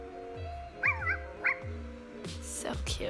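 A Dalmatian puppy in The Sims 4 gives three short, high yips in close succession, followed by a voice speaking briefly.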